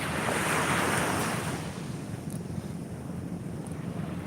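Ocean surf washing onto a sandy beach at Santa Ana, Cagayan at sunrise, a broad hissing wash that swells early then settles into a steady roar, with wind buffeting the microphone.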